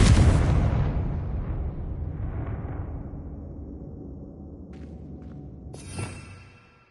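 A loud booming blast from the Confringo fire spell in Hogwarts Legacy opens sharply and decays into a long rumbling tail, followed by faint magical chimes and a smaller pop near the end.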